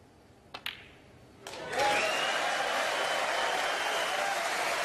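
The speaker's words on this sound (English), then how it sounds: "This time the applause is not premature." A snooker crowd at the 2018 Masters semi-final between John Higgins and Mark Allen breaks into loud sustained applause for a century break, after a few brief early claps, and the applause keeps going evenly.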